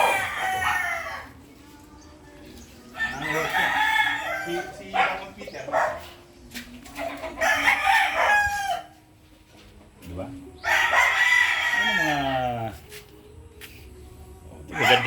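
Bulik roosters crow repeatedly inside a backyard chicken coop, loud drawn-out calls close by with clucking between, while a dog barks and people chat nearby.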